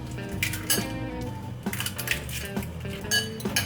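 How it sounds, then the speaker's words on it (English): Two eggs being cracked into a separate bowl while preparing custard for a banana birthday cake, giving a string of light clinks and taps of shell against the bowl, with dish clatter in a kitchen. "I'm gonna crack 2 eggs into a separate bowl"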